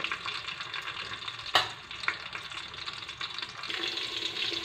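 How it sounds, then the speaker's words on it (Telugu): Small pieces of chopped green chili fry in hot oil with a continuous crackling sizzle. There is a sharp spatter burst near the start and a few stirring clicks. The sizzle swells louder toward the end. "కొంచెం ఆయిల్ వేడి కాగానే 2 పచ్చిమిరపకాయలు ఇట్లా చిన్నగా కోసుకొని వేసుకోవాలండి"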